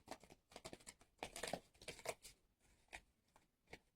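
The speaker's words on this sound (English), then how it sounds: "Okay, I'll do a little quick shuffle." Tarot cards shuffled quickly by hand, a close series of crisp riffling bursts and soft slaps in irregular clusters, with short pauses between them in a quiet room.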